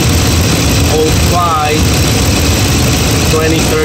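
A 2013 Dodge Ram 1500 with the Hemi engine idles with a P0305 misfire, giving a loud, steady low rumble alone with faint chirping squeaks above it.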